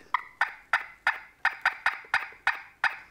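A turkey call gives a quick series of sharp, clucking yelps, about ten evenly spaced notes, loud and close with no other sound around them.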